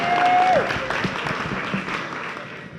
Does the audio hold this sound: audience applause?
yes